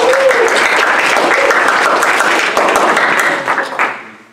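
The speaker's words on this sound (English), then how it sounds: "She deserves a round of applause." Audience applause at a skeptics' camp gathering, a steady dense clapping from a full room that holds for several seconds, then thins and tails off toward the end.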